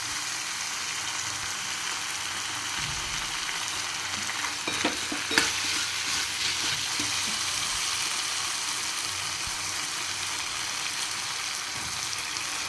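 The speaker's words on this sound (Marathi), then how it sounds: "मुगाची डाळ टाकून छान असं त्याला हलवून घ्यायचं" Moong dal being stirred in a hot frying pan, a steady close sizzle with soft scraping stir strokes through the middle, no voices.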